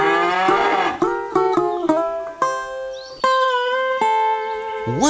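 Several cows moo loudly in quick succession, long drawn-out lowing calls overlapping close by, one after another.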